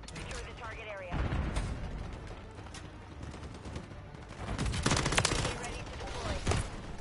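Gunfire in Call of Duty: Modern Warfare III multiplayer, with bursts of shots and impacts that swell around the middle and again near the end, mixed with other game sounds.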